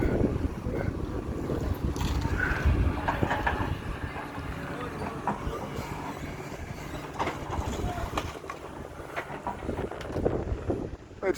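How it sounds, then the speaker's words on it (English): Gusty wind blowing outdoors at a Blackpool demolition site cleared of rubble, a steady broad rush across the whole stretch with swells and buffeting on the microphone, with no talk. "Just a breeze, there's a gust every now and again."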